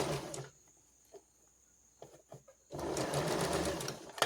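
A sewing machine stitches straight across an elastic fabric bowl cover, starting with a loud run that drops to near silence with a few soft clicks, then resumes as a steady, close whirring burst.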